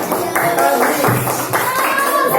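Children in an Indonesian elementary classroom clapping for group 4, a loud, lively burst of patterned hand claps, several rounds in quick rhythm, close by.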